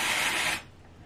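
Dry shampoo sprayed from an aerosol can onto hair, one steady hissing burst lasting about half a second before cutting off, close and fairly loud.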